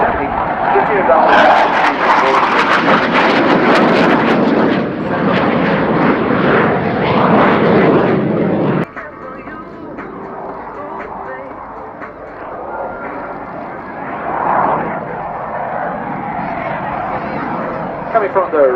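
Fixed-wing display aircraft engine roaring during a flying display at RIAT 2019, a loud broadband roar for about nine seconds that drops to a fainter, more distant drone, with a commentator talking over it.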